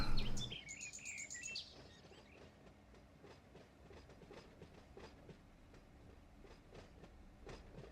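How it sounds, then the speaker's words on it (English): Rolling freight cars in Run 8 Train Simulator, heard on the Norfolk Southern AGS South route while coupling up to the rest of the train: a steady, fairly quiet run of rhythmic wheel clicks and rail rumble, with a brighter burst of sound at the start. "We hook up to the rest of our train here."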